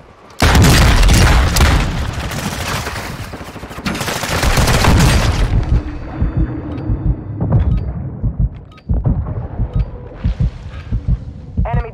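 Gunfire rattles through Call of Duty Warzone 2 in loud, dense bursts of rapid shots with booming low impacts, easing into scattered single shots and thuds. Brief game voice lines play over the combat.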